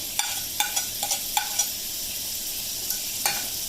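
Chopped ginger and garlic, along with onion, drop into hot oil for a coconut-free roasted black chickpea curry, giving a steady sizzle with several sharp crackling bursts as the pieces hit the pan and are stirred.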